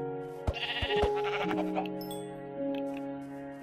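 A Minecraft sheep bleats close by in a survival game: a couple of wavering, drawn-out electronic baas over a quiet game soundtrack.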